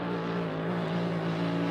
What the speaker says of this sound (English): Boat sounds real good, Jeff.